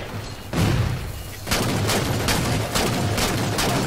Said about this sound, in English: It's a regular assault rifle that you use in the game.